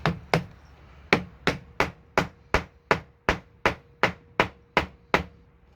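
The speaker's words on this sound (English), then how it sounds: "And we'll just hammer this in." A hammer drives a bicycle inner tube patch into furniture during a repair, giving about a dozen sharp, loud, evenly spaced blows, each with a short ringing decay.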